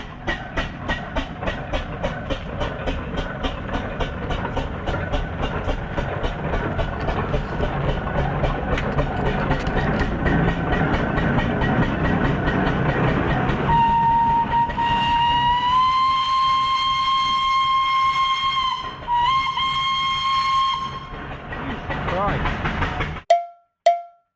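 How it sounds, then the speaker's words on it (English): Steam traction engine chugging along slowly at a steady rhythmic beat, loud and close, joined later by a sustained whistle-like tone, with mechanical clanking underneath. "this is how powerful these traction engines are"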